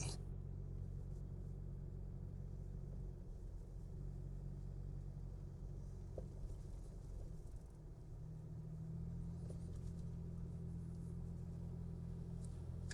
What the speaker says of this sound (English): we are cruising around 25 miles per hour now